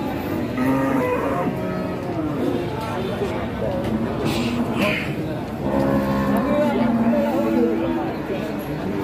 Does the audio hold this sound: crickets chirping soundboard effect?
no